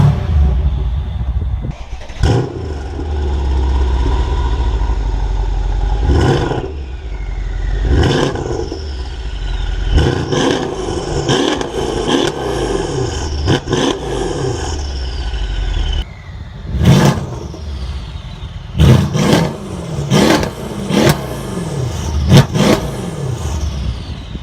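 A Mercedes E63 AMG S, tuned to 736 bhp, revs and accelerates hard in loud repeated bursts, with sharp throttle blips and gear changes over a constant rumble, close to the car.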